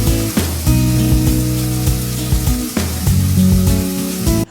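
Chicken cooking in a pan with added water for a chicken fry, loud, close sizzling and spattering with a few sharp bursts and short dips, no voices.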